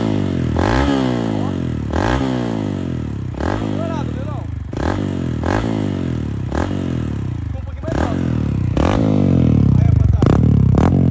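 A Honda XRE 190 motorcycle with a modified, very loud exhaust revs repeatedly, about eight sharp throttle blips rising and dropping in a steady rhythm, close and loud with some mechanical clatter between revs.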